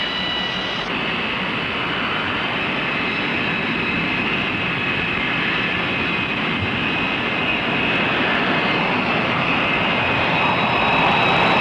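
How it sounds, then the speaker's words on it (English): A loud, steady roar of jet aircraft engines on an aircraft carrier deck as a 20-ton plane launches to flying speed, with a broad sustained rumble and whine that holds for the full length and never lets up. "Standing start, 20 tons of aircraft reach flying speed in 2 seconds flat."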